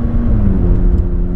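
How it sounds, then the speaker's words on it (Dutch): A car launches hard under launch control, its engine producing a loud, close, rising roar and rumble with a deep low-end drone across the brief burst. "Dit is misschien wel de ziekste launch control die ik ooit heb meegemaakt"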